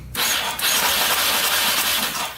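A quad bike engine, with WD-40 sprayed down the cylinder, is cranked over to check for spark: a sudden loud, steady churning cranking that runs for over two seconds at close range. No one talks.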